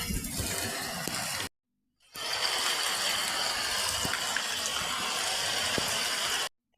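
Hailstorm with heavy pouring water outside a house, a dense steady rush of falling ice pellets and water with scattered sharp ticks, broken by a brief cut to silence.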